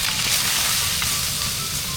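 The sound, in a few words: pan-frying in peanut oil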